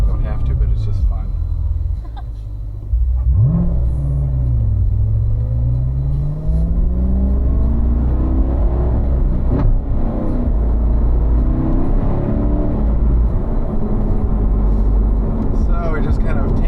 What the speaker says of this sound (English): Once I get a little pump on the gas. And with downshift.